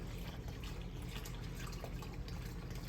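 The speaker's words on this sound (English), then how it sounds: "Let me pour this into the measuring cup here, y'all." Homemade vanilla extract is poured into a measuring cup, giving a steady, faint trickle of liquid that runs on for the whole stretch with no talking.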